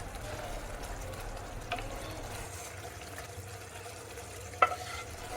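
Butter paneer masala gravy simmering in a pan, a faint, steady low bubbling and soft sizzle with one brief clink of a utensil near the end.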